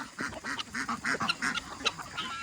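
Ducks let out of their pen in the morning, a run of loud, close quacks in a quick uneven rhythm, with a few sharper honking calls near the end.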